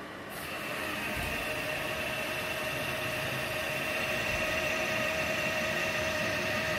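An Industrial Hobbies CNC mill runs a test program, its spindle spinning as the machine traverses at 40 inches per minute. A steady, even mechanical hum holds without change throughout, with no voices.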